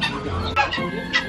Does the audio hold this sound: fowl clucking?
yes